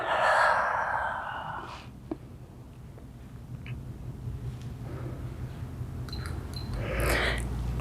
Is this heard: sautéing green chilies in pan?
no